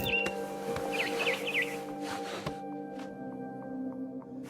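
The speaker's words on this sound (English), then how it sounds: "Then I heard chirping outside my window." Barn swallow chirping in What Remains of Edith Finch: a short run of bright warbling chirps near the start, set over a steady droning game ambience with low hums that carry on alone afterward.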